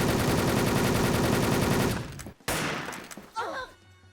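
An automatic gun in the online shooter Wolfteam sprays a dense, loud, continuous burst of fire for about two seconds. It then cuts out, leaving scattered thuds and softer game sounds.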